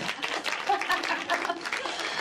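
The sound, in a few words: applause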